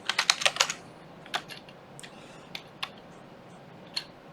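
Keys clatter on a computer keyboard: a quick burst of about eight close, crisp keystrokes at the start, then scattered single taps spaced across the rest, quiet in an otherwise still room.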